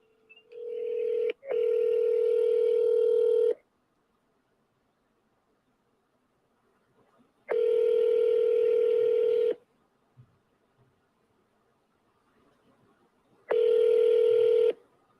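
Outgoing telephone call ringing on the line: a brief dialing blip, then three steady ringback tones with long silent gaps between them, clear and alone with no talk.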